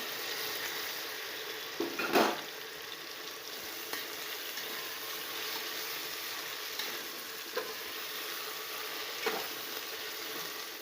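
Potatoes and roasted peanuts sizzle in hot oil in a pan while making khichdi rice, a steady close frying hiss with a few clinks and stirring knocks, no one speaking.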